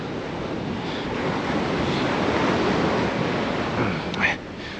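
Ocean waves surge and wash steadily onto a Puget Sound beach below bluffs at near king-tide high water, a continuous loud roar with heavy wind buffeting the microphone throughout.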